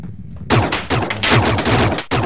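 Rapid laser gun blasts from the Another World video game, a quiet lead-in followed by a loud dense burst of repeated zaps firing in quick succession, with a brief break near the end before another shot.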